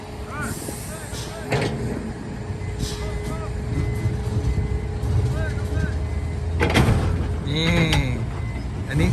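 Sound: truck reversing with reversing beeps

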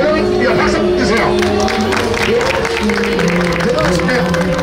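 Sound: street crowd applauding

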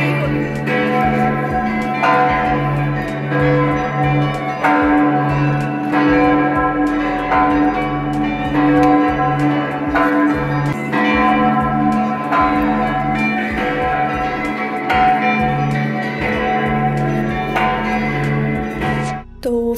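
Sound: church bells ringing in Vienna

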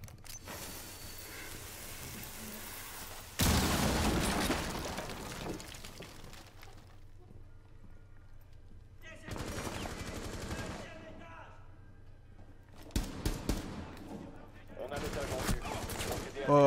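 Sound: grenade explosion and gunfire in Rainbow Six Siege video game

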